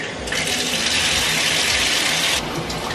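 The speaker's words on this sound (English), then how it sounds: "turn the shower on" A shower runs steadily, its hiss of falling water loud and close, spraying for a few seconds before briefly shifting in tone near the end.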